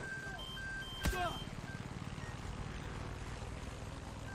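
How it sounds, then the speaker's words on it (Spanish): A helicopter in the Far Cry 6 video game throbs with a steady rhythmic rotor pulse at moderate distance, under a sharp burst of gunfire and someone speaking. "¿Hay un helicóptero? Sí, hay un helicóptero."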